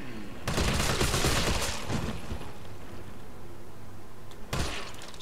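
Rapid bursts of gunfire ring out in the Resident Evil 3 video game, a dense volley of shots for about a second and a half, a lingering rumble, then another sharp burst near the end.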